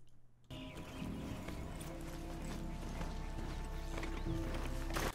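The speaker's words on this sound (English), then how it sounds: "maybe the horse gallop is being heard too soon" Horse gallop sound effect layered into an edited sequence, rapid clip-clop hoofbeats running steadily for several seconds after a brief quiet start, fairly close and prominent.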